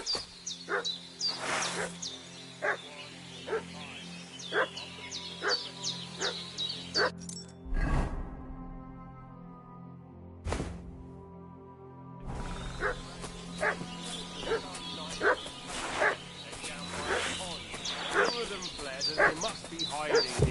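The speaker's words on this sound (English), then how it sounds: "What's that dog making such a fuss about?" A dog barks repeatedly in sharp bursts alongside game music and ambient noise, with a brief lull in the middle before the barking resumes.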